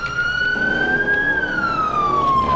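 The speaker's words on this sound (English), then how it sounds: "Yeah, I'm supposed to activate my siren." A loud electronic police car siren in the video game GTA San Andreas wails alone, its pitch rising slowly and then falling in one long sweep over a low engine rumble.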